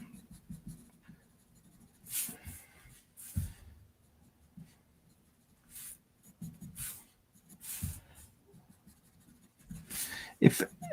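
Pencil sketching and heavy shading of a 1990s-style Spartan fan-art drawing by hand, heard as close, intermittent scratchy strokes in short bursts separated by quiet pauses.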